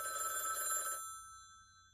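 Telephone bell ringing in an Indian rainwater harvesting advertisement, a faint steady electronic ring for about a second that cuts off, leaving a fading tonal hum alone.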